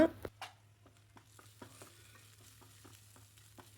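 Quiet sizzle of ivy gourd frying in a pan with salt and spices, with scattered light taps and scrapes of stirring, soft and close, with a low hum beneath.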